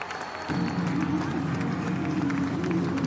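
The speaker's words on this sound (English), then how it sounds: "When the crowd roars, it really is. It's loud. You can hear it." A dense, continuous roar from the stadium crowd at the Pakistan vs Canada T20 World Cup cricket match surges in after a brief quieter moment and holds loud and steady.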